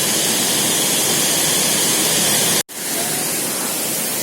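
Abbey Falls in Coorg roars as a loud, dense, unbroken wash of falling water heard up close, cut off for an instant by a brief dropout before the steady roar resumes.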